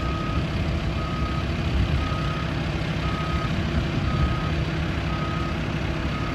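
A forklift at a junkyard backing up, its reversing alarm beeping at a steady, evenly spaced rhythm over a loud, continuous diesel engine rumble.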